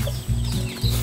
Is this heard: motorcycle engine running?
no